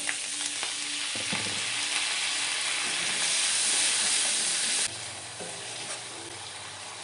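Ground green chilli and ginger spice paste frying in oil, giving a continuous close sizzle and hiss with bursts of stirring that shift partway through.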